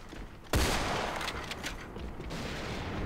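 Gunfire in the online shooter AVA during a sniper match, a sudden loud shot followed by a scattered burst of further shots and echoing game noise, with no talking.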